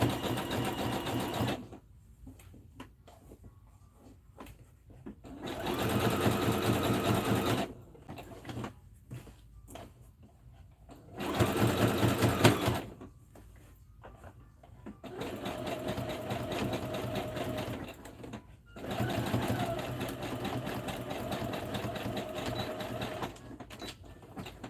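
A sewing machine stitches stretchy sweatshirt fabric in several steady runs of rapid whirring, each lasting a few seconds, separated by pauses with faint handling and soft speech, close and clear.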